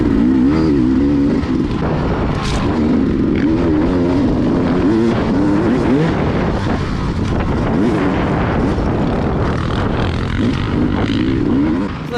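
A 2020 Beta 300 dirt bike racing at NYOA Round 2, engine revving and warbling continuously up close, loud and steady with heavy wind buffeting over the microphone throughout.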